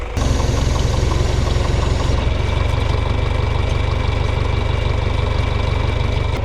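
A tractor engine runs steadily in a field, a loud, close, continuous mechanical drone with a rhythmic low-end thrum, and no voices.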